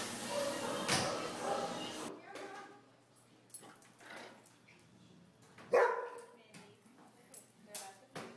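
Dogs in a daycare playroom let out scattered barks and yips, some near and some farther off, while a person talks over them.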